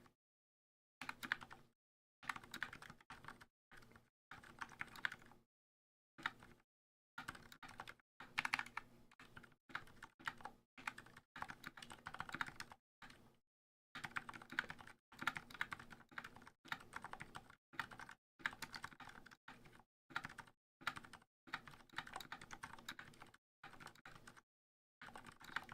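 Typing on a Keychron K6 keyboard fitted with lubed Healios switches: close, muted key presses in quick irregular bursts, separated by short silent pauses, with no talking.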